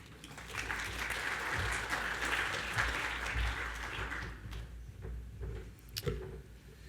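Sustained audience applause welcoming a speaker at a natural gas symposium session on workplace and public safety, steady dense clapping from a crowd that thins and fades toward the end.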